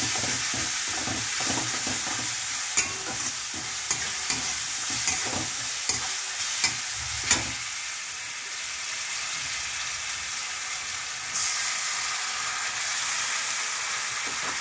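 Garlic paste fries in hot oil for a ridge gourd curry, giving a loud steady sizzle. A few sharp utensil clicks and stirring scrapes come early on, then the sizzle hisses on alone.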